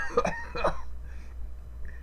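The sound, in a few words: cough imitated by the narrator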